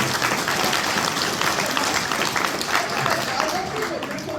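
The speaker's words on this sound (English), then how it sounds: "Let's give a round of applause." Steady, dense audience applause fills a comic expo X-Men panel room in Cincinnati, a continuous wash of many hands clapping at close range with faint voices mixed in.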